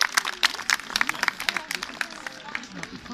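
Scattered, uneven clapping from a small audience at an eagle and vulture flight show, greeting a vulture's gliding landing, with individual sharp claps standing out over faint background voices.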